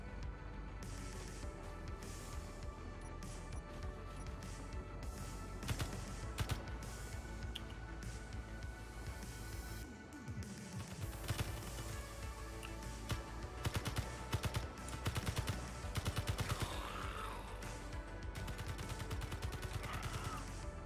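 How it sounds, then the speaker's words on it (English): Rapid bursts of gunfire from Space Engineers, a steady dense clatter of shots with sharper volleys standing out, over constant engine-like droning and a short spoken remark. "Something shooting."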